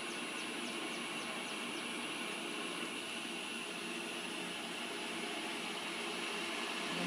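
Pratt & Whitney variable speed drive and motor running on 60 hertz power, a steady, dense mechanical whir with a high whine on top, constant and unbroken throughout, with no talking.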